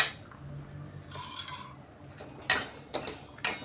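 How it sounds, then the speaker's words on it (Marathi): Sesame seeds roasting in a pan while being stirred, with soft scraping and light metallic clinks of the spoon against the pan, plus a few sharper knocks near the end. "छान खरपूस असे तीळ भाजून घेऊया आपण"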